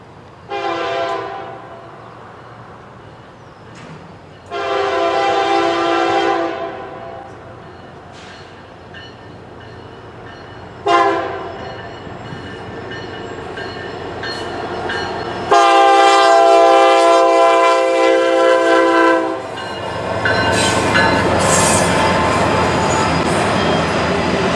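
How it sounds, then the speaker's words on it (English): A Norfolk Southern intermodal freight train led by a single SD70M locomotive rumbles past with several loud, sustained horn blasts sounding in bursts, the rolling rail noise continuing steadily between them. "I caught an NS southbound intermodal train led by a lone SD-70M."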